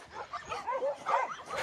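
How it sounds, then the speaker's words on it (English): Several shelter dogs, once kept on chains, yip and whimper in quick, excited bursts, fairly faint and close together, a lively overlapping chorus. "So this is the 3 dogs who was in chain."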